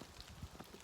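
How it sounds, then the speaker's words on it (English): Steady rain falls outdoors during a large-format film photography outing, a faint, even patter with a few soft drops standing out, heard alone with no voices. "It's just raining too much"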